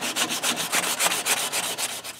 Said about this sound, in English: go back with some sandpaper and make it right